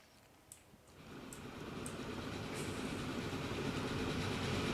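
Trains run in the video game Transport Fever 2, a low rolling rail rumble swelling steadily louder over several seconds with faint rhythmic clicks, heard alone.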